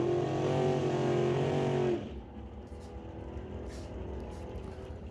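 A Super Street drag race car makes a solo pass at an NHRA Northwest National Open Series event: a loud, harmonic engine roar that suddenly cuts off after about two seconds, leaving quieter distant mechanical noise.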